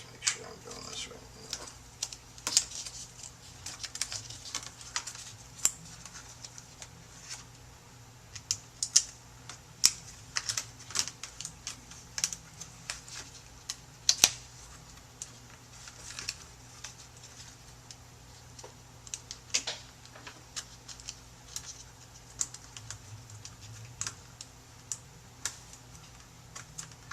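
Netbook keyboard being pressed and snapped back into place during a KAV60 repair, a scatter of small sharp plastic clicks and taps spread irregularly across the stretch, fairly close and quiet, with a low steady hum beneath.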